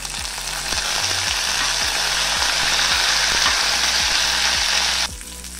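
About fifteen hot green chillies fry in oil for gongura (sorrel leaf) chutney, giving a loud, close, bright sizzle with light stirring knocks that drops off suddenly near the end.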